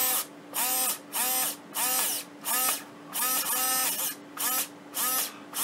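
A Harbor Freight Drill Master rotary tool, a cheap Dremel-style unit, runs in repeated high-pitched bursts, switching on and off about eight times in a steady rhythm, loud and close with no talking.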